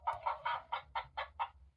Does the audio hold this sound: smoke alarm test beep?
no